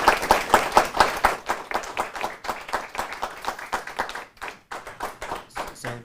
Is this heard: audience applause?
yes